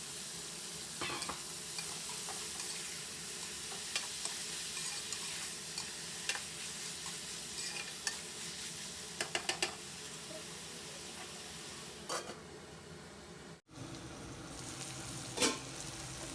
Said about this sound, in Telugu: ముందుగా కట్ చేసుకుని సాల్ట్ వాటర్లో వేసిన వంకాయ ముక్కల్ని కూడా వేసేసుకుందాము ఈ విధంగా వేసేసి ఒక్కసారి బాగా కలిపేసుకుని